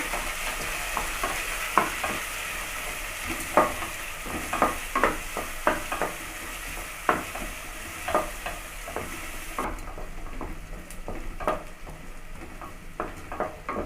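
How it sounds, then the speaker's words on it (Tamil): Onions sautéing in oil with green chillies and curry leaves for broken rice upma, a steady close sizzle broken by repeated sharp scrapes of a spoon stirring the pan, no voices. "வெங்காயம் வந்து நல்லா வதங்கிட்டேங்க"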